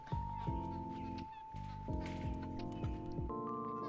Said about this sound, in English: He sounds like a duck.